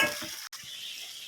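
Three large chopped tomatoes hit well-fried onions in a hot pan for a medicine kulambu, giving a steady hissing sizzle with a brief soft stirring scrape.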